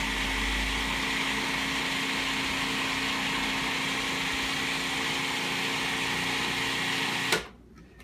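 A blender whirring steadily as it mixes hummus, a constant close motor hum running for several seconds before cutting off abruptly near the end.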